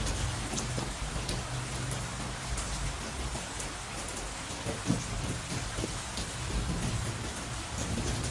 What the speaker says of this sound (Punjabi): ਮੀਂਹ ਵੀ ਬਹੁਤ ਜ਼ਿਆਦਾ ਆ ਗਿਆ